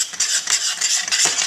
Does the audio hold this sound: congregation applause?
no